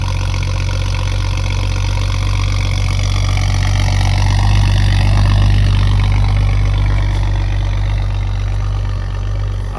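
A BMW F10 535i engine runs steadily and loudly throughout, a deep idling rumble with a slight rise in revs midway, with exhaust valves open on a cold start.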